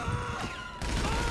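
A loud burst of rapid Tommy gun fire in GTA V multiplayer, briefly dropping off and then returning in another volley, sharp and close with a harsh crackling texture.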